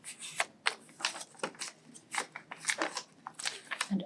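Paper being folded and creased by hand to make an origami tree, giving a run of crisp, close crinkles and rustles in short bursts.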